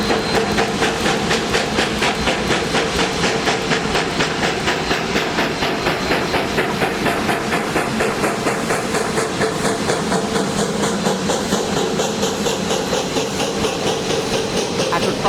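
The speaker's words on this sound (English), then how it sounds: "as the 1702 crosses the Tuckaseegee River" Steam locomotive 1702 rolls across a bridge over the Tuckaseegee River, a loud, steady clickety-clack of wheels on rails with a continuous rumble and hiss that carries unbroken throughout.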